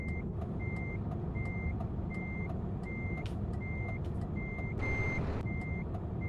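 A truck backs up in a truck-driving game, its reversing alarm beeping in an even, regular rhythm over a steady engine rumble, with a brief air-brake hiss partway through and no voices.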